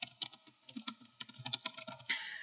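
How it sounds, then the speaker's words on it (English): Rapid, uneven keystrokes clatter on a computer keyboard as body text goes into a document, close and crisp, with a brief pause before a final burst of taps. "I'm just going to start typing"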